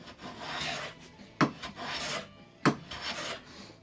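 Antique wooden hand plane taking light, gentle shavings from wood: repeated soft rasping strokes, about three close passes, each ending in a sharp knock, with no voices.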